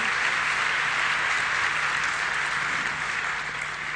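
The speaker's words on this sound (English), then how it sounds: "I'd like you to give them another round of applause now." An audience applauds panellists at the end of a public talk on WikiLeaks, Assange and defending democracy, a steady, dense wash of many hands clapping with no pauses, fading slightly toward the end.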